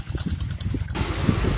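Engine of a motorized plough used in place of cattle for farm tillage, a continuous rumbling drone with a loud broadband hiss taking over partway through.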